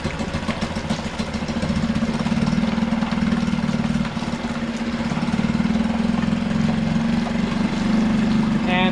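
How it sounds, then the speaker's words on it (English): Suzuki 2.5 outboard motor idling just after starting, a steady low putter with a rhythmic, slightly uneven chug and a faint rattle, close and continuous for the whole stretch. "we're just going to keep it at idle speed, just so it's just barely running but smooth"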